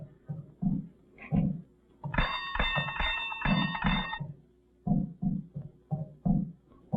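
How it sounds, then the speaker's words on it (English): A bell rings steadily for about two seconds in the middle, bright and ringing like an ice cream truck chime, with quieter low, irregular sounds before and after it. "You ring the bell."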